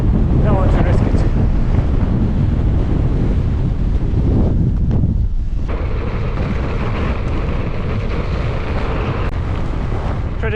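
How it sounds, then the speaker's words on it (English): Loud gusty wind buffets the microphone outdoors at night, a constant roaring rumble that swells and eases in gusts for the whole stretch. "Pretty gusty tonight."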